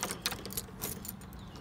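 A bunch of keys, one of them all silver, jangles close by with a few quick metallic clinks and rattles over about a second and a half.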